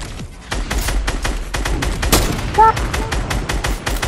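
Rapid gunfire from the video game Fortnite, a dense run of sharp shots and bursts over the full few seconds, loud and close, with a voice briefly talking over the action.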